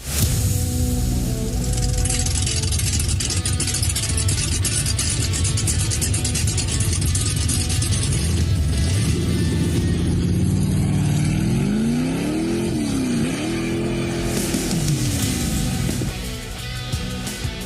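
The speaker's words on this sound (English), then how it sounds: "So keep those exhaust noises coming in for us." A car exhaust revs loud and close, the engine note climbing and falling through a sustained run of throttle blips before easing off near the end, with no talk.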